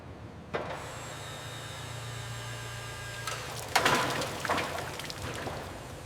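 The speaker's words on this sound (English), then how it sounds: "Engage the hoist, slow and steady." A hoist lifts an old, heavily rusted abandoned car, a steady low motor hum running for a few seconds followed by clanking, creaking metal as the load shifts.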